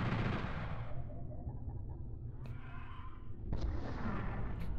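In Final Doom's Plutonia, a rocket launcher fires and its blast lands as a heavy, rumbling boom, followed by a second explosive burst a few seconds later. Both are loud and close, with no talking.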